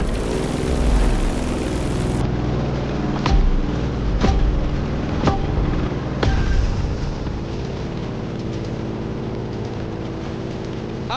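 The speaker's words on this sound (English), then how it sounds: "The Grumman F8F Bearcat, a real fighter." Grumman F8F Bearcat propeller fighter in The Crew Motorfest, a steady loud engine drone running throughout with a few sharp transient bursts, heard alone without talk.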